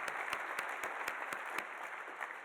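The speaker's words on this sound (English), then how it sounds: "How about a round of applause for all of them?" A breakfast event crowd gives a faint, distant round of applause. A few sharper, evenly spaced claps stand out above a soft, continuous patter.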